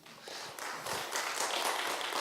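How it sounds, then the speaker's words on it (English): Audience applause following a talk at an ICM presentation, a steady wash of many hands clapping at moderate level for a couple of seconds, no speech over it. "Let's go ahead and give her a round of applause."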